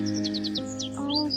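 A baby bird on a footpath gives a rapid run of thin, high chirps and tweets, close and clear over a steady low background hum.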